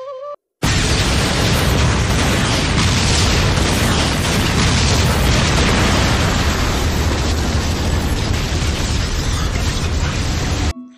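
A massive, sustained explosive roar from explosion tags in a Naruto anime bursts in after a brief pause and rumbles continuously at full loudness for about ten seconds before cutting off.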